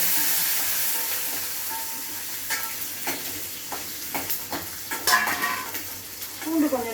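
Garlic sautés in a pan with pepper already added, giving a steady sizzle that slowly thins while a spatula scrapes and taps the metal several times.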